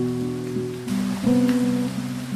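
Rain patters steadily in a blocky Minecraft-style Hello Neighbor game, a soft continuous wash mixed with tonal in-game sounds, with no speech.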